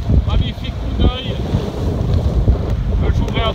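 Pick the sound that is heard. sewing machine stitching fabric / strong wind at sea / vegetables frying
strong wind at sea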